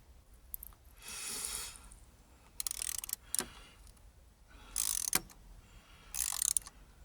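Working an 8mm socket on a Jaguar V8 engine gives short, sharp bursts of close metallic ratcheting and clicking, separated by quiet gaps.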